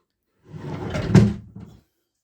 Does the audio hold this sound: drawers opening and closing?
yes